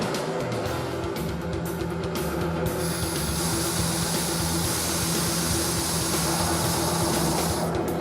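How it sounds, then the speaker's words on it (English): A homemade turbojet engine roars loud and steady throughout, with a high-pitched whine building partway through and holding to the end. "This is the very first turbojet Mark Nye ever built."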